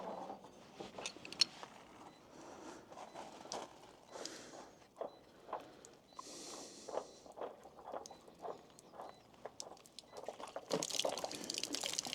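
Water drains from a solar collector, pouring and splashing in uneven bursts, gurgling and trickling close by, with a few knocks and shuffles mixed in.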